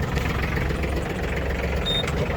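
A cold ISEKI GEAS23 Japanese mini tractor idles right after starting, a close, continuous engine drone holding steady with no talk.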